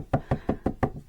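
A resin mold being knocked against a surface to move the color inside, five evenly spaced dull thuds in quick succession, close and fairly loud with no talking.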